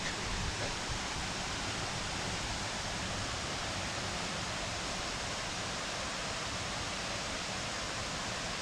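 Steady rushing water runs somewhere near a heron-lined corner by a bridge along a dismantled railway in Bedford, a constant broadband hiss with no breaks or other sounds.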